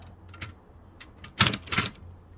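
A Toshiba BW-3112 Japanese typewriter under restoration clacks as it is operated, with a few sharp mechanical strikes and a louder double clunk near the end, close and alone.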